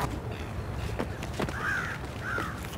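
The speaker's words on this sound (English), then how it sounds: "Fucking crows." Crows caw a few times in the Vermintide 2 video game, two harsh calls standing out over a busy, noisy game background.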